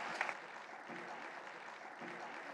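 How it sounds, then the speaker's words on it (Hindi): An audience claps steadily at a public event to welcome Delhi's Chief Minister. The applause is a sustained, even wash of many hands, fairly distant, with a slightly louder burst near the start. "हम करतल ध्वनि से आपका स्वागत करते हैं।"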